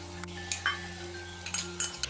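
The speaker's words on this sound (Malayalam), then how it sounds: "നന്നായിട്ടൊന്ന് ഇളക്കി കൊടുക്കാം." A spice mixture with turmeric and garam masala is stirred in a pan for chicken biryani, a spoon scraping and clinking quietly against the metal several times over a low steady hum.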